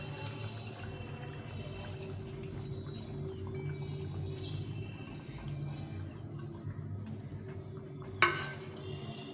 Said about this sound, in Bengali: এই মাছটা দিয়ে ভালো করে ফুটিয়ে নেবো